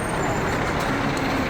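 A lorry on a road, a loud continuous broadband rumble of engine and traffic noise close by, steady throughout with no clear talk over it.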